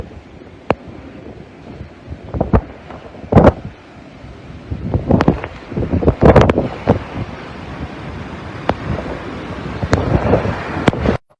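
Strong Typhoon Ulysses wind blows hard outdoors, roaring in irregular loud gusts that buffet the microphone, swelling and fading between bursts with no talk.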